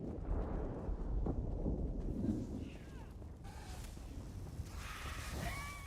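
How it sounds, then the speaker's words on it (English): Deep rolling thunder rumbles low and sustained in the Elder Scrolls Online game, a heavy boom that eases off, with faint higher in-game tones and chirps drifting in over it. "That is a really like deep thundery sound."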